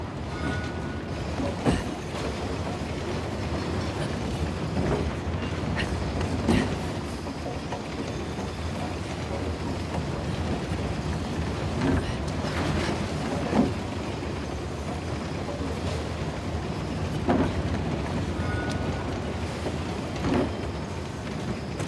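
A train rolls steadily on rails in Uncharted: The Lost Legacy, a continuous rumbling with faint clacks and metallic knocks, sustained throughout at moderate loudness.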